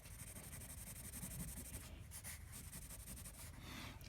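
An HB pencil scratches and rubs steadily across paper while a comic page is being drawn, a soft continuous close-up scraping with small strokes and pauses and no talking.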